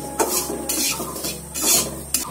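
Whole cardamom pods, split open, and a bay leaf dropped into hot oil in a cooking pan, giving a steady close sizzle with a few sharp clinks of utensil against the pan.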